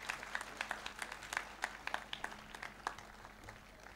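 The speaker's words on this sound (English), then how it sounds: "A big clap of thanks to our Grace." Church congregation at a Holy Mass in Our Lady of Lourdes Church clapping in thanks to the Archbishop, a thin, scattered round of applause with distinct individual claps standing out, moderately distant in a reverberant hall.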